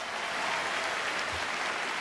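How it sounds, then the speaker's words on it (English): An evening audience applauds at a birthday announcement during a peace music event, producing a steady, even wash of many clapping hands, fairly distant and moderately quiet, with no break across the short stretch. "So, sure, big round of applause."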